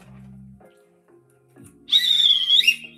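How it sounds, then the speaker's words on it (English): A whistle is blown once in a single shrill, wavering blast lasting about a second near the end, after a few faint low sounds. "I couldn't even blow the whistle as much as I would because you're not expecting it."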